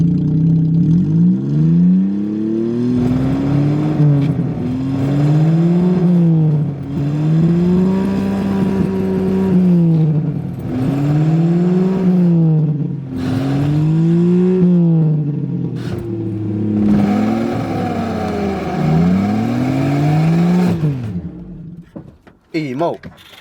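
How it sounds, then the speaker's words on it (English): A car engine is revved repeatedly, rising and falling in pitch in a regular cycle of roughly six loud, close revs before the engine cuts and the sound drops away. "As you see, the engine sounds really good."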